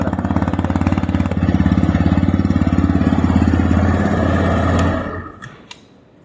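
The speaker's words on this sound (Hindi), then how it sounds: "अब सुन लेते हैं इसकी एग्जॉस्ट साउंड किस तरह की आपको मिलती है" Exhaust of a 2021 TVS Raider 125 motorcycle chugging at a steady rapid idle pulse close by, loud and even, then the engine cuts off and dies away, leaving a few faint clicks.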